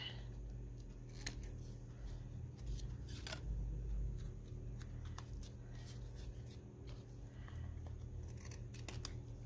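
Scissors trimming fabric while making slot pockets, a series of close, sharp snipping cuts spaced irregularly over a low steady room hum.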